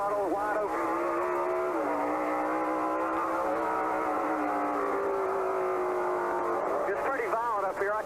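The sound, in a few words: NASCAR stock car engine at wide open throttle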